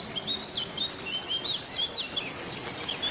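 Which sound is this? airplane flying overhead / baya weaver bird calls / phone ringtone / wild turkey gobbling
baya weaver bird calls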